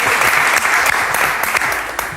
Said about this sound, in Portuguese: Está a ver os benfiquistas todos presentes que eles aplaudem?